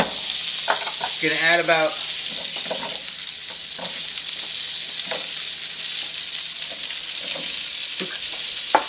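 Butter sizzles and crackles steadily in a pan while chicken with dumplings is being made, a constant bright hiss running the whole time, with someone talking briefly over it near the start.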